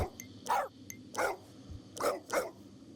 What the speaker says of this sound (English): giving him the deepest bark that I could find